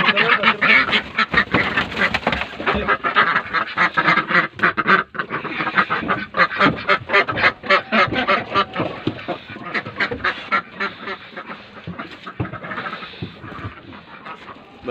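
Ducks on a village farm in Turkey quack in a dense, continuous chorus, many loud overlapping calls close by with no pause.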